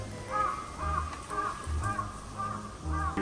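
A crow caws outdoors in a repeated series of about six harsh calls, spaced roughly half a second apart, fairly close and loud over steady background hiss.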